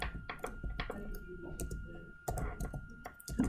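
Someone types a web address on a computer keyboard. The key clicks are quiet and irregular, with short bursts and brief pauses over a faint steady tone.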